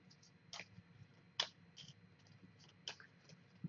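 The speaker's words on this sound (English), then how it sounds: "Now we got to shuffle up the turn order deck." Cards from the Aeon's End turn order deck are shuffled by hand, giving a few separate crisp riffling clicks and snaps at irregular intervals against a quiet background.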